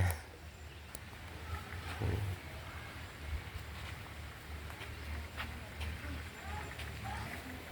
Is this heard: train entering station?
no